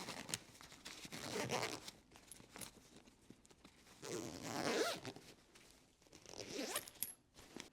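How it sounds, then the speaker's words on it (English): A mesh compartment on a COR Surf Island Hopper 2.0 waterproof travel bag is zipped shut in several quiet, close zipping strokes separated by short pauses, with no talking. "Now, I'll zipper up this mesh compartment."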